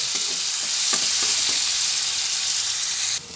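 Spice paste blended with water fries in a pan for an aloo potoler kalia, giving a continuous loud sizzle with soft scraping stirs as it is turned over, close up.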